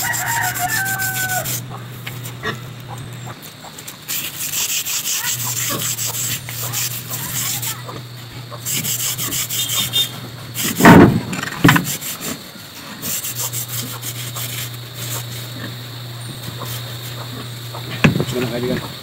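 Pandan leaves are rubbed back and forth to smooth wood for a homemade hat stand, giving repeated rasping strokes with short pauses between passes, a rooster crowing faintly outdoors and a brief louder knock partway through.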